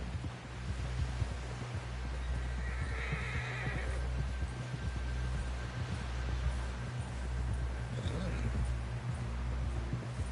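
A horse in Red Dead Redemption 2 whinnies twice amid steady clip-clopping hooves, set against a low, rhythmic throbbing pulse, with faint voices in the background.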